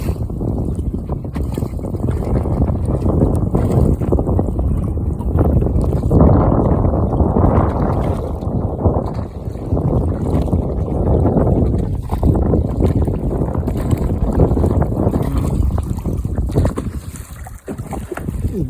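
A rowing boat moves across Morjad oxbow lake, with a continuous loud rumble of water and wind buffeting the microphone throughout and no clear voices.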